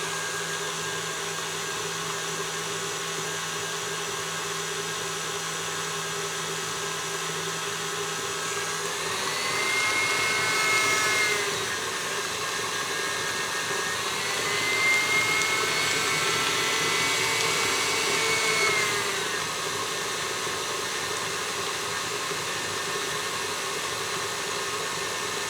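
An electric mixer whirs steadily while beating cookie dough cream back into a smooth cream for strawberry Moranguete biscuits, a constant motor drone that rises to a louder, higher whine twice.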